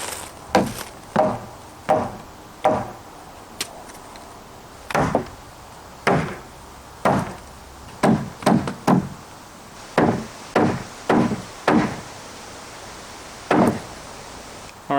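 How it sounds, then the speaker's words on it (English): Heavy sledgehammer blows knock wooden pool wall boards into the corners of an inground pool, roughly a dozen and a half sharp woody thuds in uneven bursts, close and loud with no talking. "to get it into the corners I just use a sledgehammer like this one"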